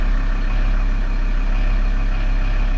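A diesel engine with worn, freshly cleaned injectors idles nearby with a steady low drone and slight fluctuations in its revs, alone and without talk.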